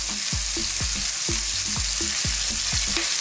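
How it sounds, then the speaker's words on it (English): Bacon, chopped onions and a teaspoon of chopped garlic fry on high heat in a pan, giving a loud, constant sizzle with regular scraping stirs that come roughly every quarter second, with no voices. "on a high heat here, our onions and our bacon and that teaspoon of chopped garlic"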